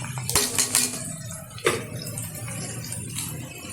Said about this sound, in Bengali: এখন দিয়ে দেবো এর মধ্যে টুকরো করে রাখা বিনস আর গাজর